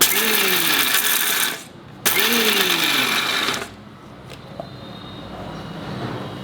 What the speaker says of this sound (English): Grind it on pulse mode because I want it to be coarsely ground.